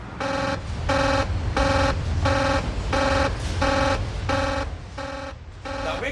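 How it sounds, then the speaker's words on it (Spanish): A harsh, insistent control room alarm buzzer at the Chernobyl nuclear plant blares in regular pulses, about nine evenly spaced bursts, loud and steady over a low rumbling background. "Él también está acostumbrado a alarmas de este tipo."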